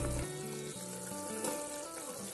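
Carrots drop into a pan of frying spices for Indian-style veg pulao, setting off a brief, steady sizzle with a soft crackle, heard close and alone.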